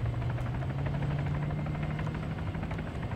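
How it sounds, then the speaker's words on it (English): Helicopter in the video game Arma 3, a steady loud rotor thrum and engine drone holding throughout without pause, close and continuous. "I'm just trying to follow a helicopter now."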